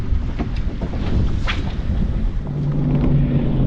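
Strong wind of about 15 mph with 30 mph gusts buffets the microphone during a fishing trip in a constant rumbling roar, with gusty swells and faint splashing water underneath.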